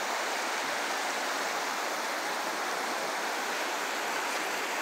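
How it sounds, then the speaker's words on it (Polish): Steady, loud rush of a river flowing through the middle of a town street, a continuous broadband wash of moving water with no breaks, close by and with no talking. "Rzeka po prostu po środku ulicy."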